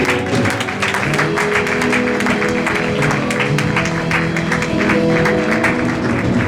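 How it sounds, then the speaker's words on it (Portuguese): Church congregation claps during a worship service, steady rhythmic clapping layered over sustained music and voices throughout, loud and continuous without a break. "Si tu le crois avec moi, donne-lui une main d'applaudissement"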